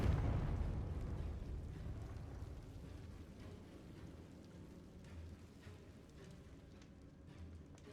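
A Confringo blasting spell explosion in the video game Hogwarts Legacy, opening with a low rumbling burst that fades into a long quiet decaying roar.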